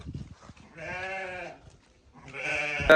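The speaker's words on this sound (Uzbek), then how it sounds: "Mana sizga qo'y." Arashan sheep from Kyrgyzstan bleat at close range: a long wavering bleat, a short pause with faint rustling, then a second loud bleat starting.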